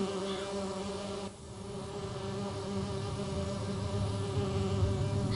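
Bees buzz in a continuous droning hum in the video game Agatha Christie: And Then There Were None, steady and close with a brief dip in the first seconds.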